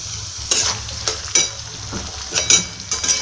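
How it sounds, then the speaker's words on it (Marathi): Cauliflower being fried with onions in a pan for a vegetable pulao, with a steady close sizzle and a few sharp spoon scrapes and stirring clatters over it. "याच्यात आपण गोबी टाकून घेऊया आणि थोडीशी फ्राय करून घेऊया।"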